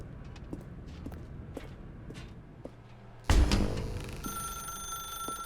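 In The Stanley Parable, a telephone bursts into a loud, ringing trill after soft footsteps, the bell tone sustained and steady, filling the room without any talk.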